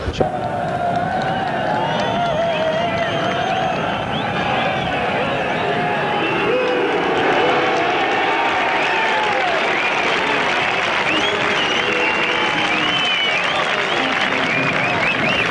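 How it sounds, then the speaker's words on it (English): A rugby league crowd at a Bradford v Leeds match cheers and applauds throughout as the teams take the field, making a broad, continuous roar with steady clapping and hubbub that keeps building. "There's a big crowd building up."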